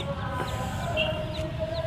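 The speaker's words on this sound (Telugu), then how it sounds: "బుజ్జి కోడి పిల్లలు" High, thin peeps of young chicks chirp intermittently over a busy background hum at a Hyderabad street market, short and repeated.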